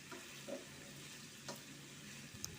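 Bitter gourd and potato frying in a pan give a steady low sizzle, with a few soft stirring scrapes spaced out across the stretch, all fairly quiet and with no voices.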